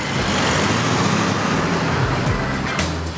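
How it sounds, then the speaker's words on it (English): Steady, dense roar of road traffic at a junction, engines and tyres blending into a constant wash with no pauses, fairly loud and close. "Did you hear the sound of all the traffic at the junction?"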